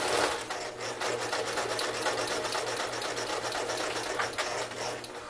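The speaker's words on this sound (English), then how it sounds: "So you're going to start sewing right there." A sewing machine stitches fabric for a phone pillow, its needle chattering in a fast, even mechanical rhythm that runs steadily and close by without pause.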